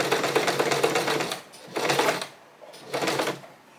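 Sewing machine stitching a zipper onto a homemade cushion, running in three bursts of rapid rhythmic needle clatter separated by short pauses, close and fairly loud.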